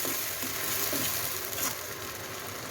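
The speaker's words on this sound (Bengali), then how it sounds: "তো এটা একদম লো ফ্লেমে পেঁয়াজ আর টমেটোটা আমি ভাজা হতে দেবো।" Onion and tomato frying gently on a low flame in coconut oil, a soft, even sizzle with occasional faint stirring scrapes, quiet and close.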